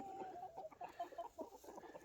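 Hens and roosters cluck in a pen, a busy chorus of short, overlapping calls with one higher repeated cluck over the top, fairly close and steady throughout.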